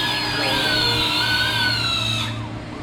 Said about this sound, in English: Just heat them tires up like you've been doing.